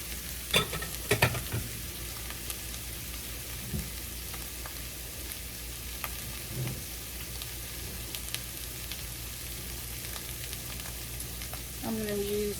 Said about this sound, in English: Get those sauteing up a little bit.